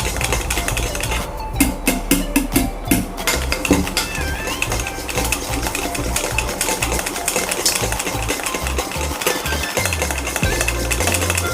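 Khaman batter is stirred in a metal pot, with a busy, continuous clatter and scraping of utensil against metal running throughout at a steady close level.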